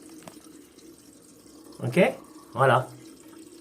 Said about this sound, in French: Et là, la chasse d'eau se remplit. D'ailleurs, on entend.